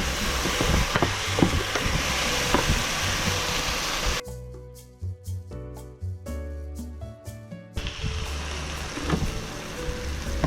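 Food stirred and mixed in a hot sizzling pan for a pork rice dish, a steady dense frying hiss broken midway by a few seconds of quieter scraping and clinks before the sizzle returns.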